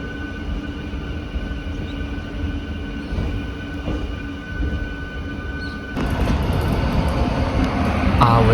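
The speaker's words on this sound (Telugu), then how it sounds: "ఆ వచ్చే ట్రైన్ ఉంది చూసారా," A passenger train approaches along a line near a canal junction on the Vijayawada–Guntur route, its steady rumble swelling louder toward the end with a faint high wheel squeal, heard under light ambient noise.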